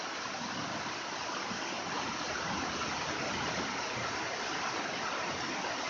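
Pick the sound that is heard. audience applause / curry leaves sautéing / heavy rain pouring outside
heavy rain pouring outside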